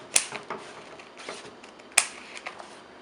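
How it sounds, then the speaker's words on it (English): A cork coaster edge is trimmed with two sharp cutting snips about two seconds apart, each followed by faint rustling and handling noise; quiet and close. "Looks like this one needs to be trimmed just a tiny bit more."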